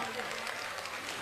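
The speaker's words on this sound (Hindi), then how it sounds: "दोनों हाथ उठा करके जोरदार तालियां" Loud, steady applause from an audience at a Sanatan Hindu unity padyatra gathering, a dense continuous wash of clapping filling the whole moment with no break.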